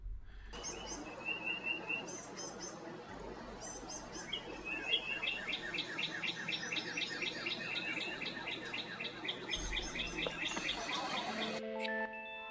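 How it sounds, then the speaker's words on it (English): A loud songbird sings close by in repeated bright chirping phrases and trills, with a low rumble underneath and a few short pauses, the song continuing steadily for most of the stretch before cutting off. "Dang, that bird is loud."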